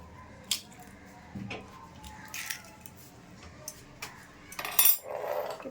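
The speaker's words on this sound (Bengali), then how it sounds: "আর এখানে একটা ডিম ফাটিয়ে দেবো।" An egg is cracked against a bowl and dropped into chicken pakora batter made with rice flour, giving a few sharp close clicks and clatters, with a brief wet splat near the end.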